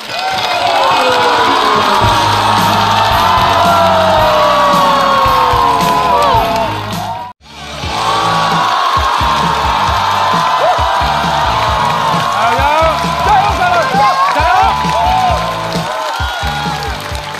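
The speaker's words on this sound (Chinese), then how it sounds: "掌声多谢你们" Loud, sustained cheering, whooping and applause from a live comedy-show audience fill the space, with shouts rising over the crowd, a brief cut of near silence midway, then the roar resuming and continuing to the end.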